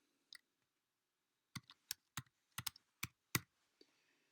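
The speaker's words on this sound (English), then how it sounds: "So I'm going to type in the word January." Keys on a computer keyboard are typed in a short run of about eight crisp, close clicks, one isolated tap first and then a quick burst, with silence between.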